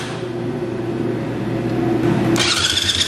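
A Beta dirt bike fitted with a Lectron carburetor runs at a steady idle, a close, continuous buzzing engine drone, until a sharp blip of throttle near the end raises it to a louder, brighter rasp.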